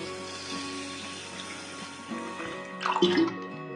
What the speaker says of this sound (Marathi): तांदूळ 3 वेळा पाण्याने स्वच्छ धुवून झाले आहे. आता चौथ्यांदा मी पाण्यात